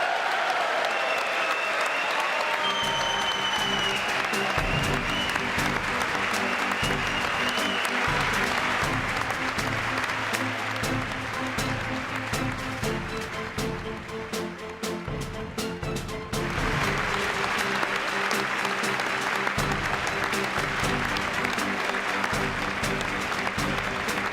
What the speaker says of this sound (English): They're still clapping.